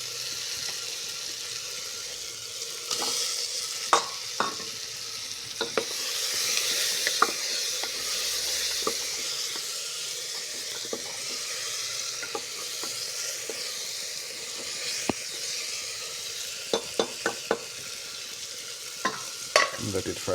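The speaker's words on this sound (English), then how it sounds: "let it fry for some time" Steady oil sizzle from eggs frying in a pan, with scattered sharp clicks and scrapes of stirring throughout; no voices.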